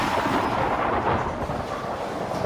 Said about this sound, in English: That creates a sound wave known as thunder.